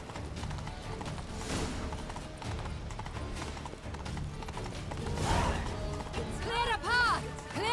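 Hooves clip-clop at a steady gallop through the whole stretch in The Witcher 3, with a horse whinny and a busy crowd around it; voices talk over the hoofbeats.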